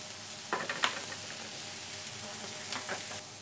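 Lamb searing in olive oil in a very hot pan, a constant close hiss of frying with a few louder crackles and the scrape of a utensil moving the meat, no talk.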